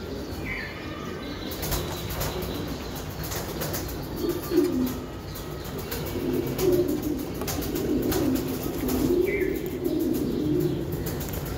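A breeding pair of large Giribaj high-flying racing pigeons coos in soft, repeated low murmurs through most of the stretch, with occasional wing flutters and faint chirps from other birds in the loft background.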